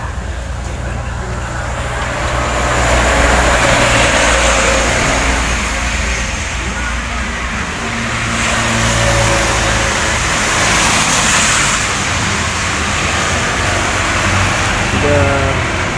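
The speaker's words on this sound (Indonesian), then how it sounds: "Sudah sekitar 5 kali ya dari bolak-balik motor ini." Steady traffic noise along a roadway, with vehicle engines rising and fading as they pass, including a motorcycle passing back and forth, under occasional faint talk.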